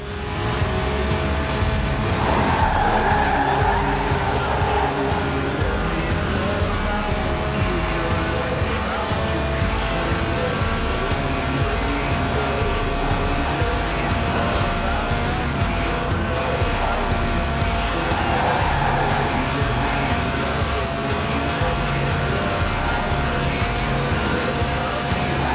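A Lotus sports car's 1.8-litre, 190-horsepower engine in Forza Horizon 4 roars continuously toward 8,000 RPM, with tire squeal and shifting pitch as it accelerates, loud and close throughout.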